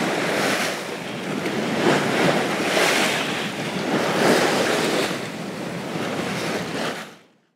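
Rough sea waves surge and wash continuously off the Glénans islands in Brittany, heard from a boat under heavy wind noise, loud and close, with swelling rushes before fading out at the end.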